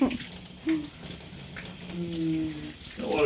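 Water gurgles and splashes as it drains out of a water-filled aqua bag, trickling unevenly with a few louder spurts near the start and end, while a voice hums briefly underneath.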